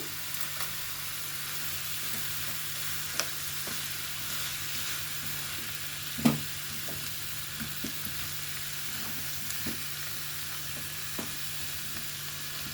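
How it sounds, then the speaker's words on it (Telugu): Ginger garlic paste fries in a pan with a constant close sizzle and hiss, broken now and then by light clicks and taps of a stirring utensil. "కొంచెం పచ్చివాసన పోయే వరకు వేగిందాం."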